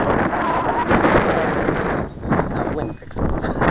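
Wind gusting outdoors on an open flying field during flight of an AXN Floater Jet RC plane, a steady loud broadband rumble buffeting the microphone throughout, easing briefly near the end before picking up again.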